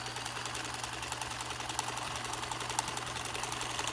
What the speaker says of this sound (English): And I usually stop with the needle down at the nose point and turn it by lifting up my presser foot.